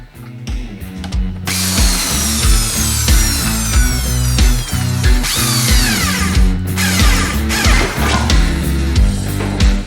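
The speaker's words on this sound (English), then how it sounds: "And plug the drill in, that usually helps." A loud electric drill whines steadily as it bores through a car's metal floor, pitch shifting as the bit bites, continuous throughout.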